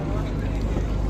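A boat sets off on the river at Varanasi, its engine rumbling low and steady with wind buffeting the microphone.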